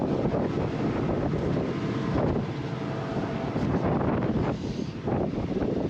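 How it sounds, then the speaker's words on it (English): Strong wind buffets the microphone on top of a combine harvester in a grain field, a steady loud roar that swells and dips for a few seconds with no voices. "It's windy up here."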